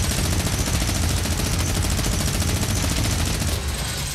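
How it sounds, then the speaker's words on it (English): Minigun in Fortnite firing nonstop, a loud dense rapid stream of gunshots holding steady for the full four seconds with no pause. "This minigun is so OP, guys. This destroy house for 5 seconds"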